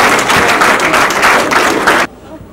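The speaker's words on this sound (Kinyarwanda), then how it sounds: "Turakoma ayo mashyi tubashimire." Loud, close applause from a gathered audience, a dense rattle of many hands with a pulsing rhythm that holds steady for about two seconds and then cuts off abruptly into near silence.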